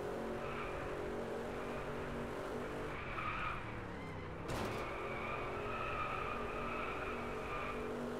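A car racing in the PS4 game Driveclub, engine droning loudly and continuously while tires screech and skid through the corners, with a brief sharp knock midway.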